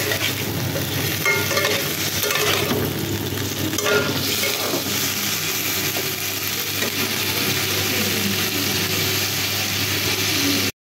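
Food cooking in butter in a pan, stirred continuously, giving a dense, even sizzle and scraping that stays close and fairly loud throughout, with no voices.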